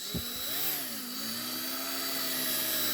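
A small drill bores slowly into a rivet on a diecast Matchbox Rolls Royce Silver Shadow model, giving a steady close whine with a pitch that dips and recovers as the bit bites, no voices.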